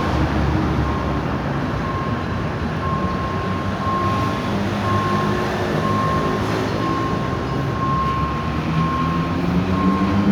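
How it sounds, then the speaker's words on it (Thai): Locomotive D.70201 hauling train 2706 at a level crossing, a steady low rumble and drone of the diesel running continuously with a faint high tonal whine throughout, moderately distant. "ขบวนรถนะครับก็กำลังจอดรอเครื่องกั้นลงนะ"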